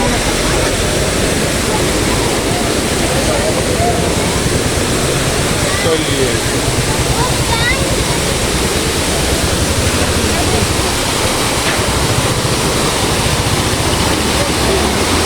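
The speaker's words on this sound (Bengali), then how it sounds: "এখানে ঝর্ণাটা আপনারা ধাপে ধাপে পেয়ে যাবেন" A stepped waterfall at Rock Garden in Darjeeling roars loudly and steadily, a dense, unbroken rush of falling water that fills the whole scene without pause.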